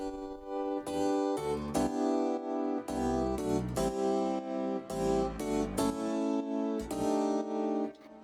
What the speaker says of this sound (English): One is a Rhodes, like a Fender Rhodes, and one is a upright piano, and that sounds on its own like this.